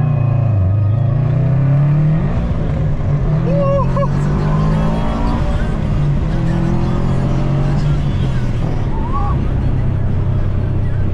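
A Chevrolet Corvette drives past with its engine revving, a loud rising and falling roar up close, while people talk over it.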